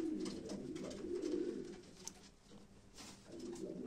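Pigeons coo steadily and close by at a live pigeon auction, low throaty calls repeating in overlapping bursts, with a pair of smoky-grey birds among them.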